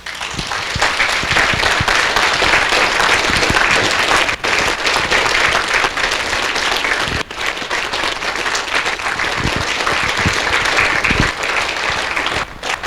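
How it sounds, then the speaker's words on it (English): A church congregation at First Baptist Bean Station gives a standing round of applause for its Haiti mission team, loud dense clapping sustained evenly for the whole stretch. "I want you guys stand up and give a big hand clap for your team."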